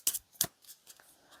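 Tarot card drawn from a deck, two quick crisp paper snaps followed by softer sliding rustles, close and brief, no voice.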